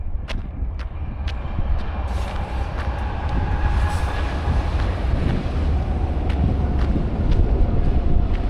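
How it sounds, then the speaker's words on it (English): A train rumbles past steadily and loudly, a continuous heavy roar with faint metallic clicks, while gusts of wind buffet the microphone. "Who doesn't love a train?"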